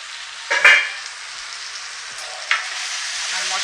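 Chicken masala frying in a pan, a steady hiss of sizzling broken by two louder bursts as the spatula stirs, close and with no voices.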